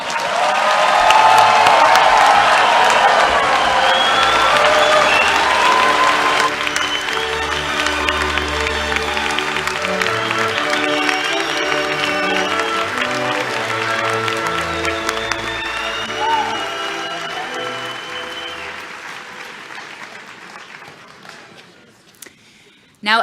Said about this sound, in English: One more round of applause for our class of 2025.